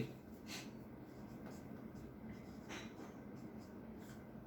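Chalk or marker scratches and taps on a board come as a handful of short, faint strokes over a low background hum during a Hindi maths lesson.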